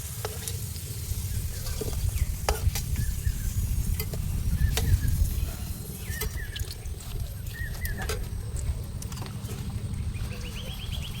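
Potatoes fry in hot oil in an outdoor garden kitchen, a steady low sizzle with scraping stirs and occasional clinks of a spatula, birds chirping faintly in the background.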